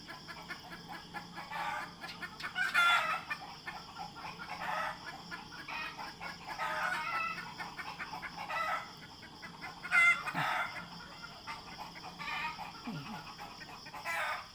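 Chickens at a farm in Phrasaeng, Surat Thani, in the early morning, with several roosters crowing over steady clucking and scattered fowl calls, fairly close and continuous throughout.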